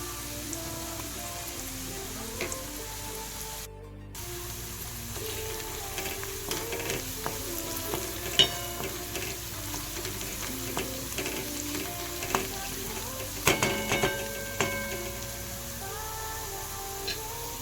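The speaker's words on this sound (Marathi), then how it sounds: "तर मित्रांनो कांदा असा पण भाजून घेणार आहोत" Onion sizzling and frying in a pan for a jackfruit curry, a steady crackling hiss with occasional sharper pops and stirring scrapes, close and continuous throughout.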